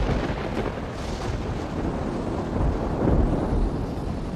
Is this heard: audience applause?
no